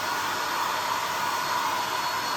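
A hair dryer blows steadily and loudly, a constant whooshing roar with no pauses and no voices.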